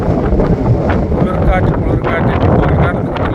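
Strong wind at a wind farm in Attappadi buffets the microphone in a steady, loud roar of rumbling gusts with no pause throughout.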